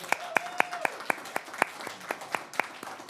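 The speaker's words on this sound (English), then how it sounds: "Round of applause for Orlando." Applause at a borough council meeting for an award recipient, heard as a dozen or so sparse, distinct hand claps spaced evenly, like a handful of people clapping nearby, with a brief tone and faint murmur underneath.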